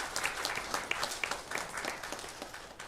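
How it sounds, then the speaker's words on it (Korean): A church congregation at a Sunday worship service claps for the Hosanna choir, steady close applause from many hands lasting throughout without any talk. "호산나 찬양대 한 해도 하나님의 기쁨과 찬양이 되어달라고 박수를 한번 격려하시겠습니다"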